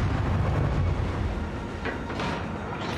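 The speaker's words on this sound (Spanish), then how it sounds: "Los cañonazos." Warship cannon fire in the World of Warships video game: a loud, low, rumbling boom that fills the opening, followed by a few fainter whooshing shell sounds, with no talk over it.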